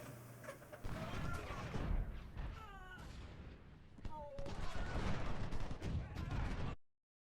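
A battle in the Civil War strategy game Ultimate General: Civil War, Shiloh scenario, with rolling musket and artillery fire aimed at cavalry, a dense crackle and boom layered with shouting soldier voices before the sound cuts off abruptly.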